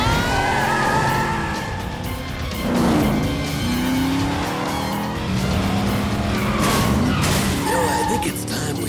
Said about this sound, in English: We're gonna drag race!